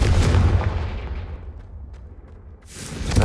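Confringo, a fiery blasting spell in Hogwarts Legacy, strikes a brazier with a heavy booming explosion that fades over a couple of seconds before a second burst swells at the end, loud and alone.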